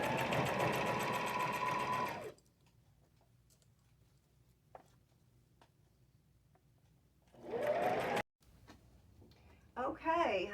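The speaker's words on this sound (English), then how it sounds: "just take it to my regular machine, and I'm going to do a zigzag stitch just along this edge right through here till I get to this side" A regular home sewing machine runs a zigzag stitch along the edge of a shawl in two rapid, whirring bursts separated by a quiet pause, then starts again briefly near the end.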